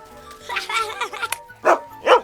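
A dog barks several times close by, a few sharp yips followed by two louder, separated barks, with no speech in between.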